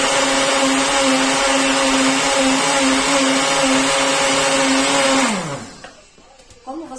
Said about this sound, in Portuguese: Venho aqui, tampo o liquidificador e bato.